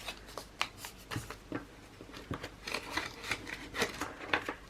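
Paper cash bills are counted and handled while being stuffed into budget savings envelopes, with rapid crisp flicks and rustles in an uneven rhythm, close and moderately loud.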